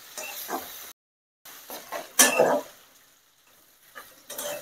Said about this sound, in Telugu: చూడండి, వెజిటేబుల్స్ బాగా ఫ్రై అయింది.